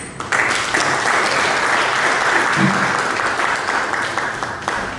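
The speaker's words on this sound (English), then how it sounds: "Ladies and gentlemen, please another round of applause for the students." An audience at a scholarship award ceremony gives the students another round of steady, loud applause, many hands clapping continuously for about five seconds with a faint voice briefly audible underneath.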